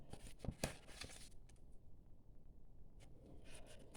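Soft riffling card shuffles up close, a brisk burst at the start, a quiet pause, then another quick shuffle near the end.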